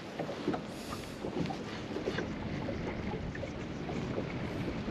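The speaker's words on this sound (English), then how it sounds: "this wind has picked up big time." Strong wind buffets a fishing boat on the Pungo River in bad weather while anglers fish for speckled trout. It makes a steady, loud, roaring rush with gusty microphone noise throughout.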